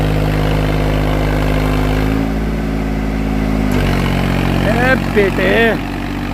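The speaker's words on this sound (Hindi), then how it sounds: "पिकअप है भाई ट्रैक्टर का, दब नहीं रहा बिल्कुल भी।" A new Swaraj tractor's engine runs hard in an open field, a loud steady droning hum whose pitch dips and shifts midway, while a voice calls out briefly near the end.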